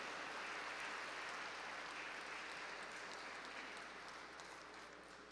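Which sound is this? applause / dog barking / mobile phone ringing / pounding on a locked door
applause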